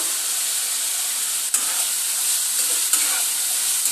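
Cut drumsticks hit hot spiced oil in a pan and sizzle loudly, a continuous bright hiss with a couple of sharp spatters and stirring noises, no talking.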